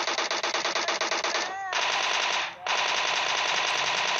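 Rapid automatic gunfire in a video game bursts out in a fast regular stream, loud and close, then breaks off briefly twice before the shooting carries on.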